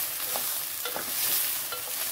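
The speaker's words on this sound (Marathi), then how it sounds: "अशी परतून घेतली ना तर त्यातला चिकटपणा असतो ना भेंडीचा तो कमी होतो" Okra slices are stir-fried in a pan with a close, continuous sizzle and soft scraping stirs.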